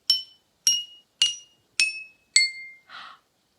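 Five crisp, evenly spaced strikes on a homemade xylophone step down from higher to lower pitch, each ringing briefly. A final duller, muffled knock follows. The sound is close up and isolated.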